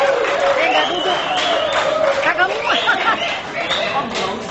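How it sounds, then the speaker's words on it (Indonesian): Crowd of 1986 high-school alumni in Jakarta clapping for newly elected caretakers, the applause mixed with lively chatter and overlapping voices throughout, fairly close and loud. "Ya, tepuk tangan untuk caretaker yang sudah terpilih."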